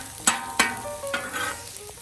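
Shrimp fry on a Camp Chef FTG600 flat top griddle with a steady background sizzle, broken by a few sharp scraping clacks of a spatula stirring and turning the food.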